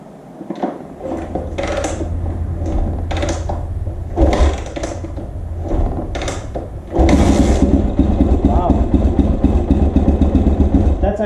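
Honda XR400R dirt bike with the choke on, kick-started from cold: a few sharp kick strokes and sputters, then at about seven seconds the single-cylinder engine catches and settles into a loud, steady idle.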